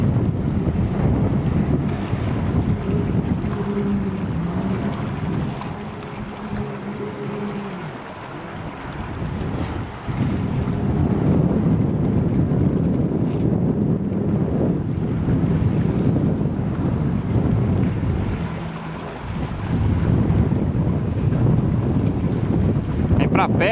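Wind gusts across Lake Allatoona, buffeting the microphone with a heavy, roaring rumble that rises and falls over about 24 seconds, with boat and water noise beneath it.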